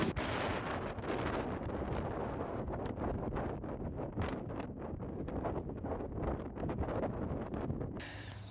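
Strong gusty wind on a Costa de la Luz beach in Spain roars into the microphone continuously, loud and buffeting, with no voices over it.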